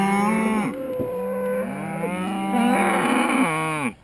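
Hereford cross and Angus cattle moo loudly and close by, several long drawn-out calls following one another in a noisy field with no talking.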